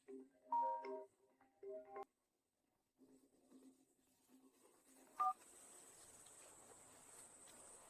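Phone keypad tones beep in quick short bursts, a call being placed in a quiet room, followed by a faint steady hiss and a single brighter tone near the end.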